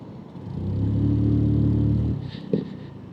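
A Lexmoto scooter engine revs hard on a rolling road, a loud, steady, close drone held for about two seconds before cutting off abruptly, followed by a short clunk.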